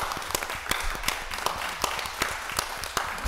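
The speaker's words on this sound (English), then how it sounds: "Let's give her a big round of applause." Applause at a Pittsburgh City Council meeting, with a modest group clapping steadily, individual claps standing out sharply over a softer patter, moderately close and without speech.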